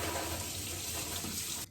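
A kitchen tap runs steadily to rinse and wet a knife while making a lemon meringue tart, a continuous close splash of water that stops abruptly at the end.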